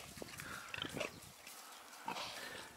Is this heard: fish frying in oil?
no